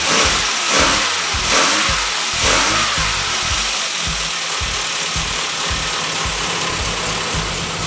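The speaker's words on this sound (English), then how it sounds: "encouraging when the engine runs after the head gasket's done" A cold car engine runs just after a head gasket replacement, idling unevenly with a rhythmic mechanical ticking and a few slight revs, loud and close.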